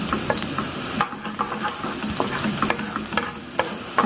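Garlic frying in a pot toward golden, a steady close sizzle with scattered crackles and spoon-stirring taps throughout, no voices.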